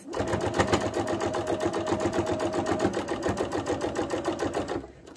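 A sewing machine stitching a bag at a 3.5 stitch length, running fast with a steady rapid mechanical chatter and hum for about five seconds, close and loud, then stopping abruptly.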